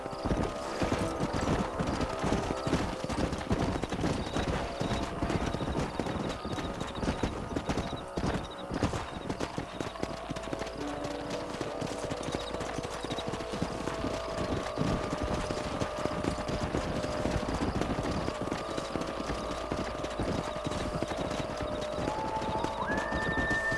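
Steady clip-clop of horse hooves galloping throughout in the video game Red Dead Redemption, with a brief whinny near the end, over a dense rumbling background.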